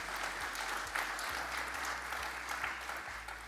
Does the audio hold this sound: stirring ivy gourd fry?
no